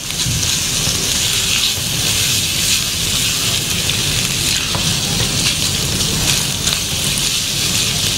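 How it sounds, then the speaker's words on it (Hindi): Chicken strips frying on high flame for a chicken stroganoff, giving a loud, dense, steady sizzle that fills the whole stretch with no talking. "फ्लेम मेरी जो है वो हाई पे है अच्छा सा इसको फ्राई करना है कि चिकन का कलर जो है वो चेंज हो जाए"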